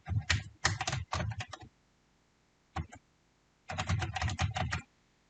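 Computer keyboard typing while renaming a layer in Photoshop, heard in three quick bursts of keystrokes, a short pair of taps, then another rapid burst, close and clear with no talking.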